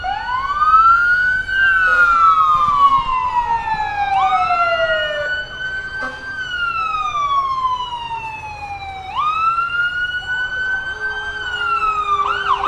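A fire department vehicle rolls through a small-town parade with its siren wailing in long rising and falling sweeps, loud and steady for the whole stretch, with faint crowd and street noise beneath.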